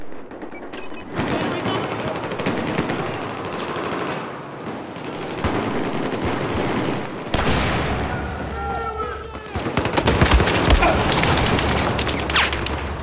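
Battlefield 4 gunfire in a 32-player Rush match on Operation Locker crackles in dense automatic bursts and booms, with bursts that stop and start and a loud surge near the end, while players talk.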